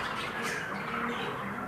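Pet birds in a breeding room squawk and chirp, a faint continuous chatter of small calls repeating close by against a soft room hum.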